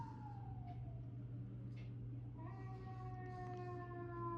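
A fire engine or ambulance siren passing outdoors, faint and distant behind a steady low hum, its wailing tone sliding down and then rising again as it goes by, with no one speaking.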